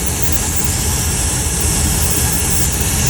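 A vacuum leak at an engine intake manifold gives a loud, steady rushing hiss of air over a running engine's drone, continuous throughout with no speech.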